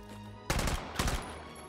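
A submachine gun fires in the VR shooter Hot Dogs, Horseshoes & Hand Grenades: two short, loud, rapid bursts about half a second apart, close up over a steady background hum, with no talk.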